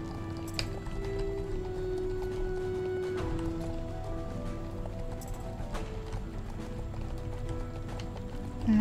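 Hooves of a magical horse in Star Stable Online clip-clopping at a steady walking rhythm, moderately loud over game music and ambient tones.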